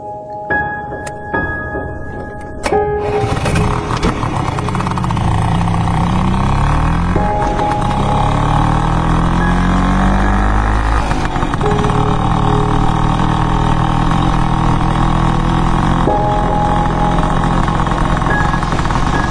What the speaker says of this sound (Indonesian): Kulajukan motor Vespaku di jalanan Bandung yang sudah mulai sepi.